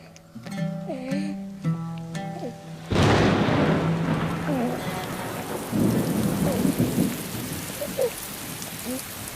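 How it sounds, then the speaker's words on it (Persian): Heavy rain with rolling thunder in a historical drama scene: a few voices speak first, then a sudden loud crack of thunder gives way to a steady dense downpour with further rumbles and voices under it. "این باران هم از برکت قدوم توست فرزندم"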